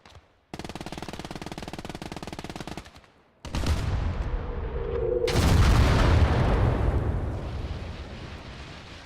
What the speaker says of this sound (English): That explosion was enough to take out one of them, but not both.